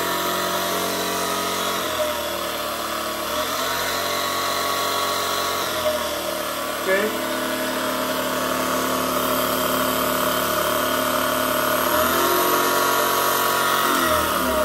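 Homemade fuel-less generator with an alternator running a light bulb, giving a continuous mechanical whine and hum with periodic dips and surges in speed; a voice speaks briefly.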